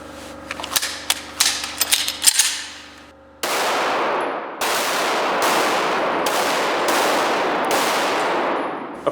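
A pistol with a red dot optic fires a series of sharp shots at a target, several loud cracks each ringing out, following a stretch of metallic clicks and handling noise.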